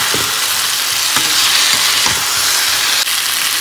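Pre-fried cauliflower and potato are stir-fried in spice paste, with a loud steady sizzle broken by a few scraping spatula strokes and one sharp clack, close and without speech.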